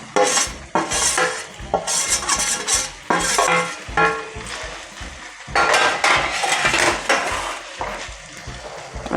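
Khoa (milk solids) being stirred in hot homemade ghee in a pan for kandi peda, with repeated scraping and clinking of a spatula against the pan over a soft sizzle, steady and close with no talk.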